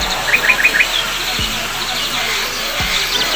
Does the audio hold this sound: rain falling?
no